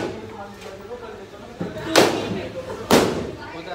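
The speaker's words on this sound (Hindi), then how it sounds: "देखो आतिशबाजी चल रही है" Two sharp booming bangs about a second apart, fireworks exploding at a distance during a birthday party, over a murmur of background chatter and noise.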